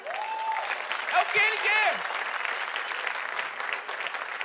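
Church congregation applauding during a sermon, steady broad clapping heard under a voice speaking, with a brief sung or shouted note over it.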